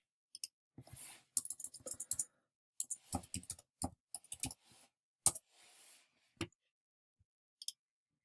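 Rapid clicking keystrokes on a computer keyboard, typed in short irregular bursts with brief pauses between them, close and fairly quiet, with no talking.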